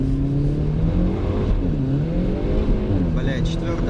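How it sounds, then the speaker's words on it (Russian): A Skoda Rapid's engine howls as the wheels spin in fourth gear, the pitch rising and wavering loudly up close, with someone talking over it near the end. "Бля, 4-я буксует."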